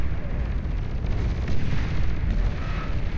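Heavy explosions and artillery-like blasts tear apart a Razorback unit in the real-time strategy game Beyond All Reason, a dense, continuous roar of overlapping booms with no voices.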